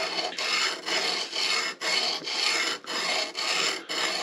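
A knife blade is ground on a wet sharpening stone: steady raspy scraping strokes, about eight back-and-forth passes with short pauses, close and clear without talk.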